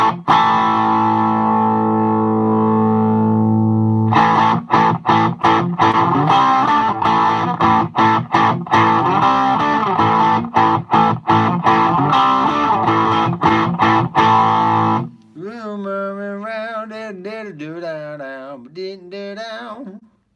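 Electric guitar played through a Headrush rig with the master volume cranked and mids and treble boosted, heavily distorted chugging chords with rapid rhythmic palm-muted stops, ending in a wavering sustained lead bend, loud and close with no talk.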